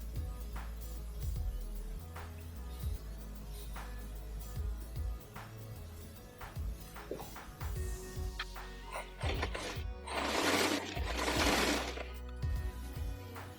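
A sewing machine runs a shoulder seam on a floral print long gown in short rhythmic bursts of rapid stitching, with a louder whirring stretch near the end, close and alone without talk.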